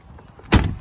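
A single solid thud of a Tesla car door shutting, short and close, preceded by faint background hum.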